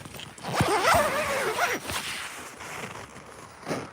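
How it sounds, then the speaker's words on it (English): Zippers are dragged open on a large canvas tent about 16 feet across, giving several scratchy, whooshing pulls of varying length close by, with faint background noise and no speech. "It's so many zippers."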